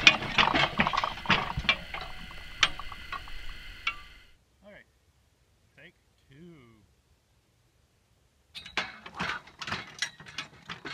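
A trebuchet's winch is released, letting out bursts of rapid ratcheting clicks. The clicking stops for a few seconds of near quiet, then rattles on again.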